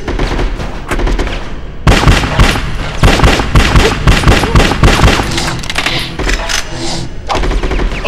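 Loud submachine gun fire rattles in rapid, sustained bursts in the Bad Boys 2 video game, with a short pause before a dense, continuous volley of shots.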